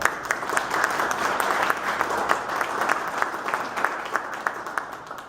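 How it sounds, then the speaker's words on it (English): Audience applause at a candidates' meet-and-greet event welcoming a veteran's widow, a steady wash of many hands clapping, fairly close and sustained throughout with no talking. "let's have a nice round of applause for Sue Phelps"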